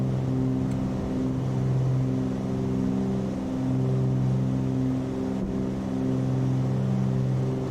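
An aircraft engine drones during takeoff in Microsoft Flight Simulator 2020, a loud steady hum with sustained tonal layers and slight swells in power, no voices.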